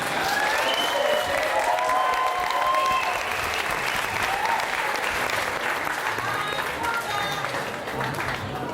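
A live show audience applauds steadily at an interval, with dense clapping and a little cheering continuing throughout at a fairly even level.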